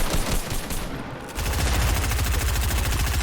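Rapid automatic gunfire in a shooting video game, a loud, dense stream of shots with a brief lull before sustained machine-gun bursts resume.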